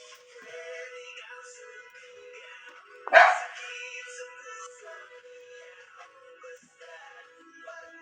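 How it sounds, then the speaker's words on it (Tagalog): An angry dog lets out one sharp, loud bark midway, set against faint background noise and distant quiet sounds before and after. "Galit yung aso."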